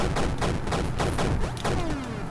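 Dual pistols firing in the 2D action game Super Crate Box: a rapid, even string of punchy retro gunshots at close range, loud and continuous over busy game noise with no talk.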